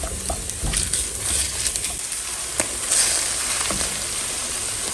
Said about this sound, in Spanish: vamos a empezar a agregar la cebolla que hicimos en rodajas. Lo único que necesitamos es que empiece a sofreírse